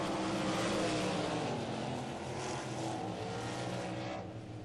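360 sprint cars racing on a track, a loud sustained roar of several engines passing, fading slightly toward the end.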